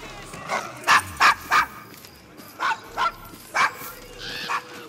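Dog in the video game Assassin's Creed Syndicate giving a run of short barks and whimpers, several sharp yips spaced irregularly over a low background.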